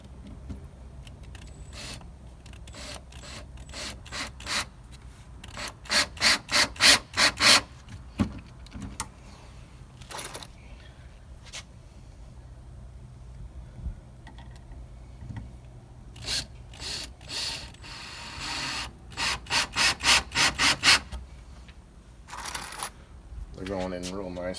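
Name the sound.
screws being driven into wood for sawhorses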